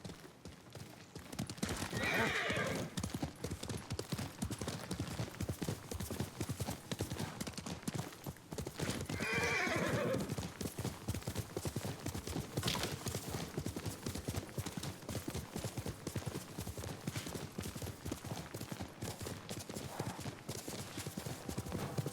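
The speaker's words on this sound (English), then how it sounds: "You're a good horse, Nobu." Horse hooves clip-clopping steadily through a Ghost of Tsushima ride, loud and continuous, with a couple of whinnies breaking in and occasional speech over the top.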